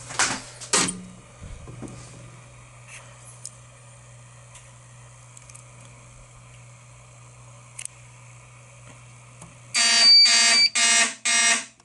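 A fire alarm detector sounds during a new system verification test, with a few clicks and a long low hum before loud, pulsing alarm blasts start near the end.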